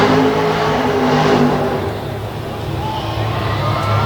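A vehicle engine revs hard and steadily while spinning donuts on a track at a Renegade Round Up competition, loud and close with a continuous roar that eases slightly midway, with faint crowd or voice sounds underneath.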